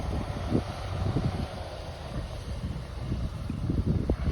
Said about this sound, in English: We're driving the four-wheeler